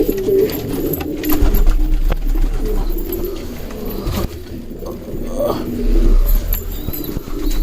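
Pigeons kept in a loft coo close by, soft low throaty calls repeating irregularly over light rustling and background noise.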